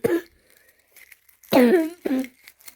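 A few short, harsh coughs up close, separated by brief pauses, with a faint bit of throat noise between them.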